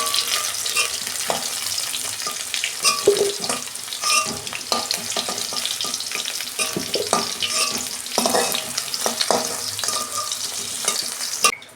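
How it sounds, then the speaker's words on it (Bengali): Five-spice seeds and onion sizzle in hot frying oil in a pan, a continuous crackling fry with frequent scraping and stirring clicks from a spatula, close and fairly loud, no talking. "ওই তেলে আমি 5 ফোড়ন দিচ্ছি অল্প, পেঁয়াজ দিচ্ছি অল্প।"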